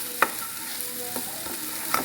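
Onions sautéing in a pan with salt and curry leaves, a soft frying hiss broken by a few sharp scrapes and clacks of a spatula, close and brief with no talking.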